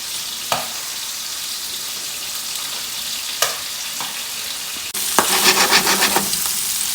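Chicken livers frying in a pan, with a steady close sizzle, a few utensil taps, and the hiss swelling louder near the end.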